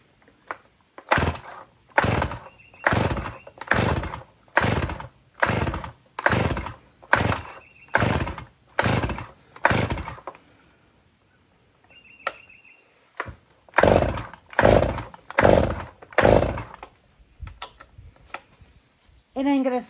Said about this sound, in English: I did drain the fuel out of the MS310. I don't think this one ain't gonna start.